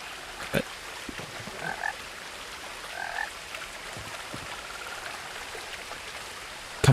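A frog croaks a few times in the video game What Remains of Edith Finch. The croaks are short and spaced apart over soft rain and trickling water, with a louder knock at the very end.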